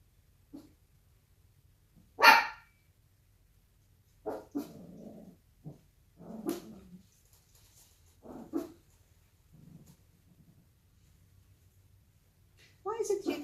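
Dogs barking and growling in short, irregular bursts indoors, some sharp loud barks and lower grumbles spaced over several seconds, close by with quiet gaps between.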